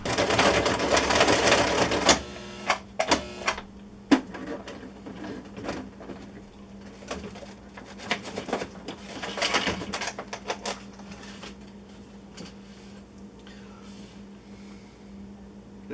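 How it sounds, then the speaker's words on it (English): A malfunctioning sewing machine runs fast in a loud rattling burst, then sputters through irregular clicks, knocks and short stuttering runs before trailing off into quiet. "There's definitely something wrong with the sewing machine."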